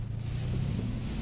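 A Mercedes C63s engine holds high revs while its wheels spin on a wet surface, giving a brief, steady, deep engine drone close by.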